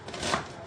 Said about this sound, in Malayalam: ഇതിങ്ങനെ മുറിച്ച് ഇങ്ങനെ എടുക്കണം.